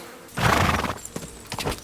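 A horse in a medieval video game whinnies loudly, followed by a few scattered hoof clops and rustling movement nearby.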